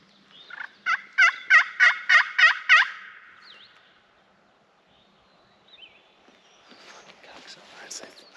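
A wild turkey on public land gobbles in a rapid burst of about seven loud, rolling calls, followed by quieter rustling and footsteps in the brush.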